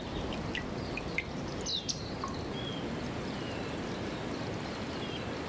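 A few quick, faint chirps from small forest birds on the Ogasawara Islands, clustered early and then fading into a constant hissing ambience.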